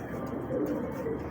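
A pigeon gives a short, close coo, one soft throaty call over faint background noise.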